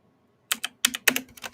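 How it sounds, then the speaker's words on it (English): Computer keyboard typing in short bursts of crisp, close key clicks separated by brief pauses, with no voices. "What happened to my keyboard?"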